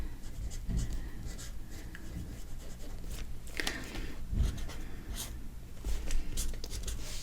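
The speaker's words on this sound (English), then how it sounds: "So I just want to write a couple things." Pen writing on paper in a Hobonichi Cousin journal, a steady close scratching of strokes with short pauses and a few louder scrapes, with no voices.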